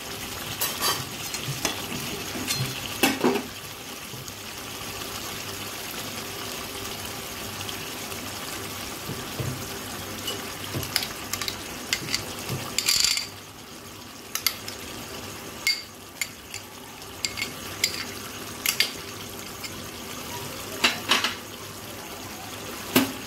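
Chicken stirred in a pan after yogurt and cashew paste are added: a continuous soft sizzle and wet bubbling, with repeated scraping strokes of a spoon against the pan.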